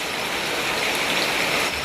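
Steady rain falling, a dense even hiss that stays constant and fairly close throughout with no voices.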